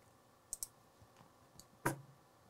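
Several sharp computer mouse clicks sound close and quiet, spaced irregularly over a faint background, with one slightly fuller click near the end.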